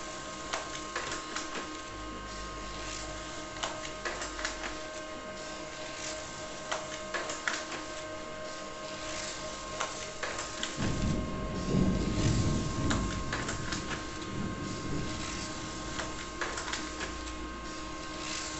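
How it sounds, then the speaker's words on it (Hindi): A Pantum laser printer runs continuously through a print job with a steady mechanical whir and soft ticking feed clicks, growing slightly louder and busier in the second half, with no talking. "तो जैसा आप देख सकते हो अभी भी प्रिंट चल रहा है।"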